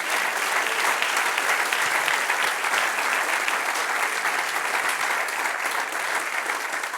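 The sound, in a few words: church congregation applause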